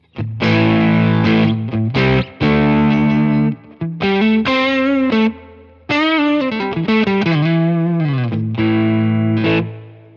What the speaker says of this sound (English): the Timmons version is actually adding in kind of more compression, kind of a beefier drive sound